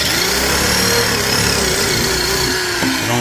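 Corded drill spinning a hole saw in reverse to cut through a plastic bucket, a loud steady whine and grinding rasp lasting throughout with no pauses.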